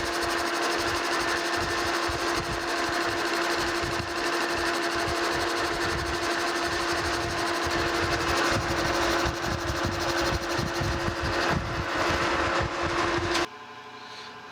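A metal lathe taking a cut on new gear blanks for a metal planer restoration, with a steady loud machine drone and whine running continuously, then dropping off abruptly near the end.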